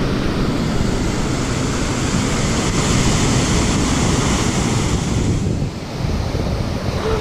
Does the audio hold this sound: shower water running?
yes